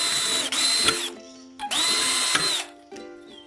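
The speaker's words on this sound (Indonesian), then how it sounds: "Ambil sepotong profil logam dan bor 2 lubang di tepinya." A power drill bores two holes into the edge of a metal profile in two loud, close bursts of high whining, each about a second long, with a short pause between them and then a brief spin-down.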